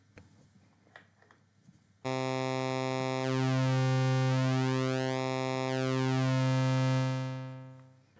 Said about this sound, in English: you can hear the harmonics shifting, creating metallic types of textures